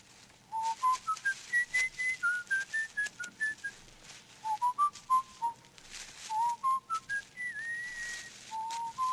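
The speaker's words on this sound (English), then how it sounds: "What's that you're whistling?" A person whistles a bright melodic tune close by, with short, clearly separated notes rising and falling in steady phrases.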